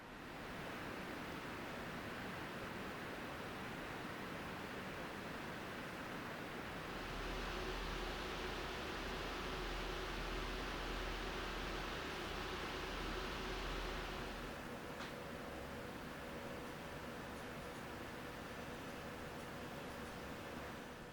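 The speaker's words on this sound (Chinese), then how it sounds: "而噪音的部分，我这里就录制了3款风扇的最大噪音表现给各位做参考" Lian Li SL120 wireless PC fans spin at maximum speed, making a faint, even, airy whoosh. The noise grows louder and fuller through the middle stretch, then settles back to a softer hiss.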